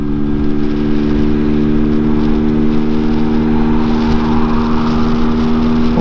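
A Peugeot PM-01 motorcycle engine pulls steadily uphill at around 50 mph, a loud, continuous mid-pitched drone with a slowly rising tone and no gear change.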